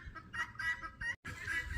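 Guinea fowl on a homestead farm squawk and cackle in quick, repeated bursts outdoors at moderate distance, with a brief gap before the chattering calls resume.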